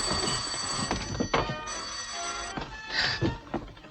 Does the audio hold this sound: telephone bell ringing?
yes